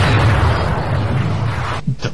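A helicopter explosion, a loud, broad roaring blast that rumbles on for about two seconds before cutting off abruptly, followed by a short low thump.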